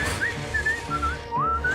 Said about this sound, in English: An indoor whistle brings luck's dismissal!